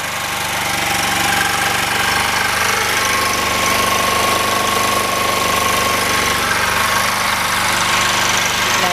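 An engine fuelled by gas from an M-1 gasifier runs steadily after a cold start, a loud, continuous, rough idle with a constant knocking vibration and broad hissing noise throughout.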